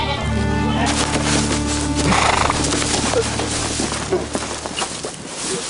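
During the Kazakh winter slaughter of horses, a horse whinnies amid a busy outdoor din of shuffling hooves and scattered background noise, fairly loud and continuous.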